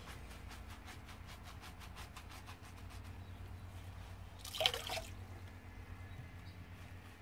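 Water dripping from sponged recycled paper pulp on a screen mould: a steady run of soft, evenly spaced drips, with a brief louder splash midway, all fairly faint.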